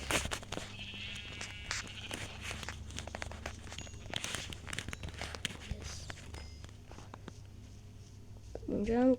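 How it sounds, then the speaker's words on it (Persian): Sheep bleat in Minecraft survival mode, with the game's blocky footsteps and crunching under steady chatter, and a clear bleat rises near the end. "اونجا هم گوسفند خاکستری داریم"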